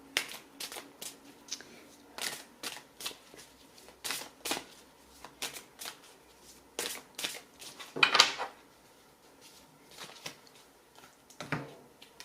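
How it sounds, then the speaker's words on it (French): Oracle cards of the love deck are shuffled by hand in repeated quick riffling bursts, close and crisp, with short pauses between them and no talk. "De Monique Grande, une carte."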